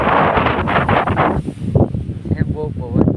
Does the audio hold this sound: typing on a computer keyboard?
no